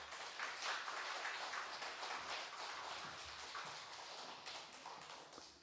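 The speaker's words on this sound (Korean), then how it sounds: "다 함께 큰 박수로 환영하겠습니다." A church congregation welcoming a pastor to the pulpit claps together in soft, distant applause. The clapping holds steady throughout, with individual claps faintly audible in the sound.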